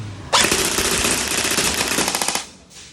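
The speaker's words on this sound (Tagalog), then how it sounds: "So, full auto, guys. 5 meters distance sa scene. Firing!" An airsoft electric rifle (AEG), stock, fires a sustained full-auto burst at a target 5 meters away, a rapid continuous rattle of shots lasting about two seconds before cutting off, loud and close.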